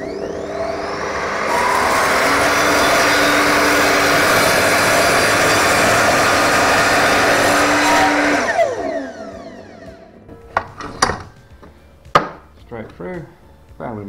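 A power saw cuts through a wooden board in a workshop with a loud, sustained buzzing whine for several seconds, then spins down to quiet, followed by a few sharp knocks and clatters.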